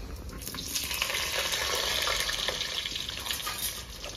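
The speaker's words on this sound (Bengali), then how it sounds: "এই তেলে আলুটা ভেজে নেবো।" Potato frying in oil left over from frying fish-roe fritters, a close, steady hissing sizzle with faint bubbling throughout.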